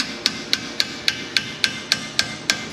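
A dead blow hammer strikes a chisel set against the hub nut of a full-floating axle on a 2002-2007 Chevrolet Silverado 3500, ten sharp, evenly spaced metallic blows at a steady rhythm, close and clear with no talk.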